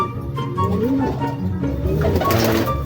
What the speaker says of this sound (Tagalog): Mga kalapatids, yan yung tatay ng white light natin, si Breakaway.